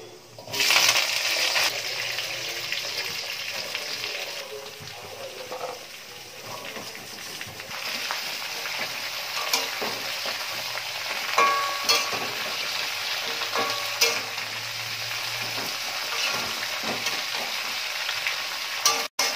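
Potato, sweet potato and radish stems fry in hot oil for a Bengali lau shak ghonto, with a steady loud sizzle, occasional stirring scrapes and clinks of a utensil against the pan, and no talking.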